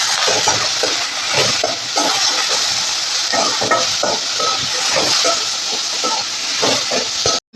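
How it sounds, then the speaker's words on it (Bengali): Radish pieces frying with salt and turmeric in a pan alongside tomato make a loud, continuous sizzle, broken by rhythmic scraping strokes of a spatula stirring them. "এবার পরিমাণ মতো লবণ আর হলুদ দিয়ে মূলোগুলোকে সাথে ভেজে নেবো"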